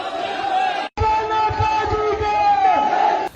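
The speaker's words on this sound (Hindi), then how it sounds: "तो बेतहाशा भीड़ आपको नजर आ रही होगी।" A huge crowd marching with sticks and swords in Ahmedabad, Gujarat, a dense roar of many voices and chanting that keeps going throughout, with a brief drop near the start.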